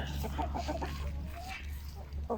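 Speckled Sussex hens forage outdoors, clucking in short, close, moderately loud bursts over a low steady background hum.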